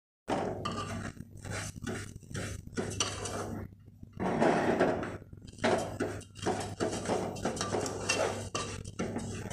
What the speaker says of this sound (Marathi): गोल्डन कलरवर भाजून घ्यायचा चांगला।